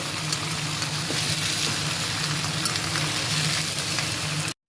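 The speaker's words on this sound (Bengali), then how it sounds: "একদম ফ্রাই করতে হবে, শিম আলুটা একটু ফ্রাই করে নিই।" Flat beans and potatoes fry in a pan with a steady, loud sizzle and crackle that holds evenly throughout, then cuts off abruptly at the very end.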